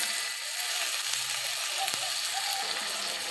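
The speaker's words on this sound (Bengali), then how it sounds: "কড়াইয়ের মধ্যে সব টমেটো কেটে রাখা টমেটো দিয়ে দিয়েছি, ভালোভাবে নেড়ে নেব।" Chopped, seeded tomatoes for chutney fry in a hot wok with a steady, close, hissing sizzle that holds evenly throughout, with faint stirring clinks and no voices.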